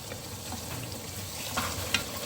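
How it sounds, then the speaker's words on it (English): Chicken karahi bubbling and sizzling in a pan, a steady close crackle of hot liquid with a couple of sharper pops near the end and no talk. "Let it boil a little bit and then I'm gonna cover it and cook in low flame for about 10 to 15 minutes."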